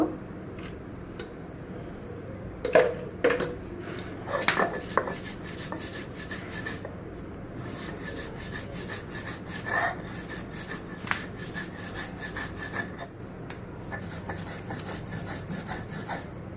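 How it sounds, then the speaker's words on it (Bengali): Chili peppers and salt are crushed by hand on a grinding stone for a bean and fish bhorta, scraping and rubbing strokes with occasional sharper knocks, fairly close and irregular, separated by brief quieter pauses. "মরিচটা আগে বেটে নেব। মরিচের সাথে পরিমাণ মতো লবণ দিয়ে দেব।"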